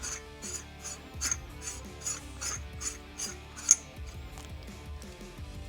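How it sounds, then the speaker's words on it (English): A buffer tube is threaded by hand into a Tandemkross Manticore X mount, giving faint, regular rasping scrapes with each turn under steady background music. "we will thread the buffer tube in and tighten until it stops"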